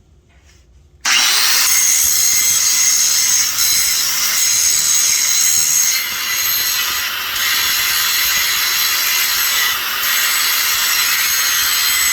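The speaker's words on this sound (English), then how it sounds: "I'm just going to trim with the grinder until the line disappears." An angle grinder trims a steel bumper part during a custom bumper build for a 1996 Toyota 4Runner, starting abruptly after a second and whining loudly and steadily up close, with slight dips in pitch as it bites the metal.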